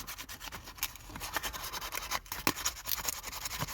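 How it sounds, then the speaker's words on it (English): Sandpaper rubs a VW T4 horn connector clean in short, uneven scratchy strokes, quiet and close with no talking. "we're just going to take a bit of sandpaper, and if you can see just in there, we're just going to give that"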